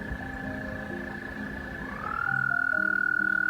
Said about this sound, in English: It's very interesting what the frogs are doing here, right?